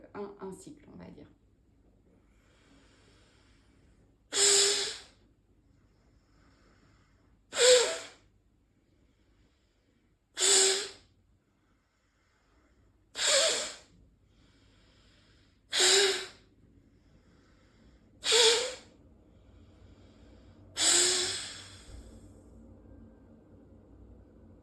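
Alternate nostril breathing in Nadi Shodhana pranayama, seven strong, hissing nasal breaths spaced evenly about three seconds apart, close and clear against near silence, with a faint voice at the very start.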